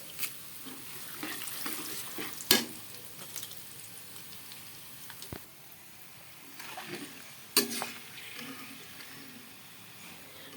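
Garlic, bay leaves and dried chili frying in hot oil, a soft, continuous crackle and patter with a few sharp pops and spatters scattered through.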